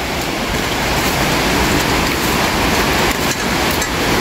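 Steady, loud rush of a waterfall, a dense unbroken roar of falling water heard up close without any voices over it.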